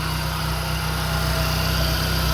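A VAZ Lada Priora 16-valve engine idles after a cylinder head repair that fixed a misfire, producing a loud, steady, even hum that continues alone without a break.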